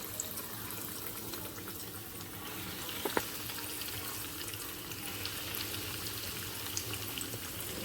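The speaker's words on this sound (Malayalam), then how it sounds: "നമ്മൾ വറക്കാനായിട്ട് എണ്ണയിലേക്ക് ഇത് ഇട്ട് കൊടുക്കുകയാണ്." Egg meat cutlets frying in hot oil in a pan, a steady bubbling sizzle heard close and continuously, with a few faint clinks partway through and no talking.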